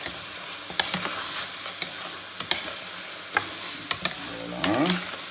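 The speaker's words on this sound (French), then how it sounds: "on va y ajouter notre vin blanc et on va remuer tout de suite" Risotto rice for a pumpkin risotto stirred in a pan just after white wine goes in, a bright steady sizzle under regular scraping strokes of the spoon, close and continuous without talk.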